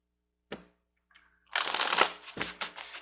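Akashic Tarot cards being shuffled in a few short riffling bursts, a brief soft flutter first, then a louder continuous riffle and separate slaps, close and clear with no talk.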